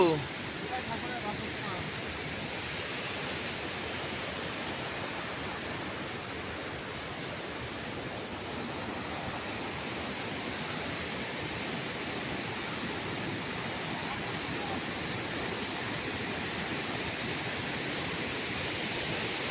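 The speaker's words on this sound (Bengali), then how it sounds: "এই যে জলের গতি" Fast-flowing river water at a scenic spot in Odisha makes a steady, dense roar that fills the whole clip without a break, loud and close. A voice speaks faintly underneath.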